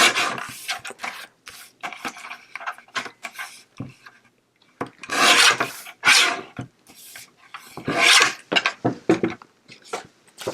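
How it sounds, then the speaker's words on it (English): Card paper is trimmed to size for a handmade Christmas card, giving bursts of rasping, scraping cuts and rubs in irregular clusters, close and moderately loud, with quiet gaps between strokes. "No, I do need to trim it down some."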